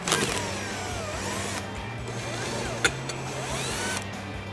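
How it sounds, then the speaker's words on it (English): An impact gun fitted with a T30 Torx bit spins out the bolts of a Jeep Wrangler JK bow bracket in a long continuous whirring whine close by, pitch wavering, with a small clunk partway through. "I have a T30 Torx bit on my impact gun."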